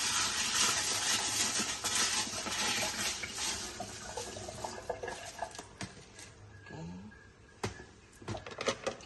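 Mung beans being washed under running tap water in a container, with a continuous splashing stream and occasional knocks and clatters of the vessel, moderately close.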